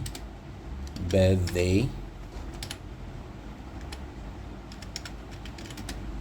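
Keys on a computer keyboard tap out text in quick light clicks, scattered and irregular, close and fairly quiet, with a short burst of speech near the start.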